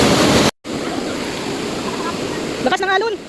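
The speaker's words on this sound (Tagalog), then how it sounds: "Lakas ng alon pala." Strong ocean waves surge and crash at a beach outing, a steady roaring wash of surf that fills the whole stretch, with a brief drop-out early on and a voice speaking briefly near the end.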